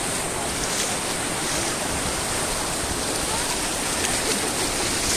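Ocean waves wash steadily onto a beach, a continuous broadband roar of surf that stays loud and even throughout with no voices heard.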